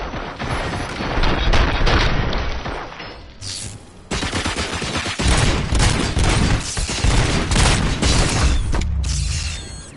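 Dense gunfire in RoboCop: Rogue City, loud rapid automatic bursts mixed with heavy booming shots and mechanical clatter, continuing almost without pause through a short lull near the middle.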